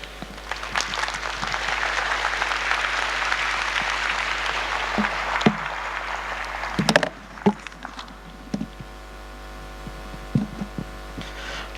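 Steady audience applause for an international guest speaker at a conference fills the first several seconds, then cuts off into a quiet room with a low hum and scattered small knocks.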